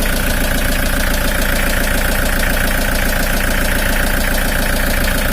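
A hot Mitsubishi L300 diesel engine idles steadily and loudly up close, with a dense, even clatter and rumble holding unchanged throughout, no voices.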